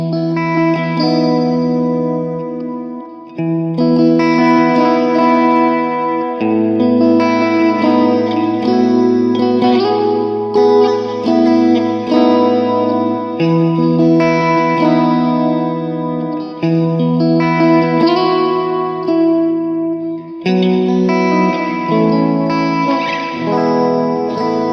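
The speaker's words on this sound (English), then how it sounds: "we're going to just turn the mix up here on this reverb" Guitar chords through a Kemper Profiling Amp drenched in heavy, washy reverb with the mix turned up, ringing out continuously with a long shimmering tail and no voices.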